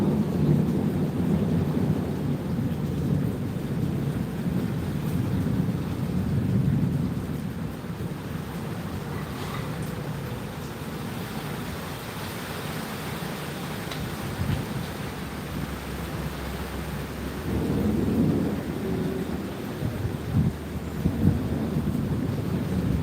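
Low thunder rumbles and rolls through an intense storm, swelling and fading over steady rain and some wind buffeting against the microphone, with no one talking.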